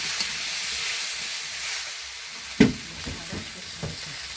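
Spiced shukto curry vegetables frying and being stirred in a pan, giving a steady close sizzle with a few sharp scrapes and knocks of the spoon partway through.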